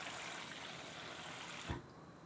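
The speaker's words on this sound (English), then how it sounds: "we submerge the oat in water" Tap water runs into a bowl to submerge oats for soaking, a steady, faint rushing stream that cuts off abruptly near the end.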